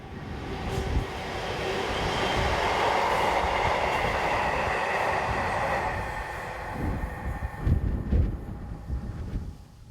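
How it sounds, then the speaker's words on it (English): A British freight train hauled by a Class 66 locomotive rumbles past nearby, a steady loud roar of a few wagons with rhythmic wheel clatter that thins out toward the end. "Just a few minutes behind is 66129 on train 6G78 from Warrington to Bescot, with just a few wagons in tow."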